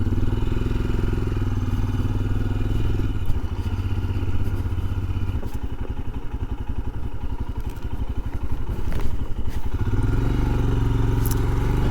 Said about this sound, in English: now I'm heading back to the paved road for the final bit.